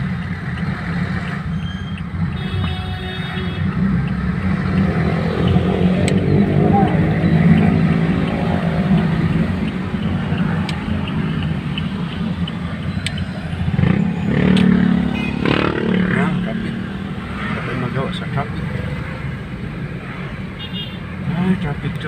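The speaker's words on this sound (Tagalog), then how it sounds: "Doon tayo sa traffic-traffic." Road traffic with cars and motorcycles during a morning school run: a loud, continuous engine rumble with vehicles passing nearby, and people talking over it throughout.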